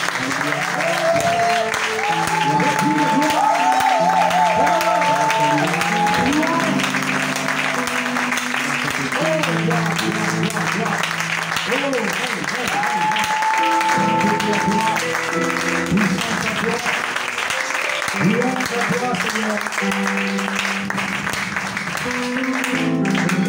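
A church congregation applauds steadily and loudly for over twenty seconds to acclaim the Lord, the clapping dense and continuous, with music and voices blended beneath it.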